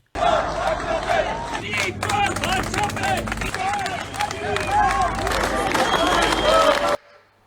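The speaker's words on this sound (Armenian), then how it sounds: "Զորահանդես հաշվետվությունից հետո Հանրապետության հրապարակում ներկա հազարավոր քաղաքացիներ ծափահարություններով ու Նիկոլ վարչապետ վանկարկելով ճանապարհեցին Նիկոլ Փաշինյանին" Thousands of people at a city square applauding and rhythmically chanting, a dense crowd of claps and voices with a narrator speaking over it, cutting off abruptly near the end.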